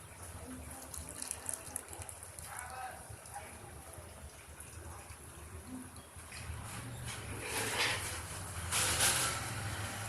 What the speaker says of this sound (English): So now we will put water in this.